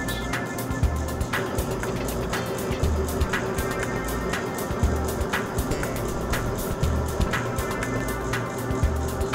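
An electric motor runs steadily while a bearing lubricated with Nano Lube is pressure-tested under a 100-pound load, giving a continuous hum with regular sharp ticks or knocks repeating roughly every half second.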